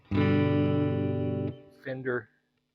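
A sustained, heavily distorted electric guitar chord from a Guitar Fetish Les Paul with high-gain tone rings out for over a second, then cuts off, followed by a couple of short crunchy stabs.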